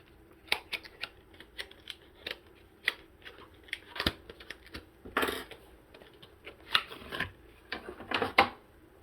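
Huda Beauty makeup palette packaging being opened by hand: a string of quick, close crinkles, snaps and scratchy rustles in uneven bursts, with a louder tearing rasp in the middle and another cluster near the end.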